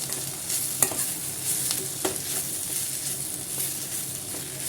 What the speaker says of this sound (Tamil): இந்த ஸ்டேஜில் புளியை சேர்த்து நல்லா வதக்கிக்கலாம்